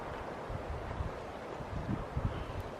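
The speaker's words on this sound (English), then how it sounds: "That is a pretty sound, all the wind rushing through those big pines." Steady wind rushes through big pine trees at Mossy Cave, Bryce Canyon, in a continuous soft roar, with faint low thumps and rustles underneath and no voices.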